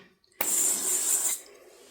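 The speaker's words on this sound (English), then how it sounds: "I've got avocado oil spray," A can of avocado oil cooking spray hissing into a mixing bowl in one steady, close burst lasting about a second, then cutting off.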